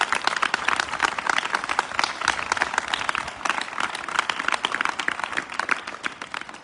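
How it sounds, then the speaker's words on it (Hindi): An audience at a girls' hostel event in Taranagar, Rajasthan claps continuously, a dense, lively patter of many hands that stays loud and even throughout with no talk over it. "भाई ताली बजा दो भाई"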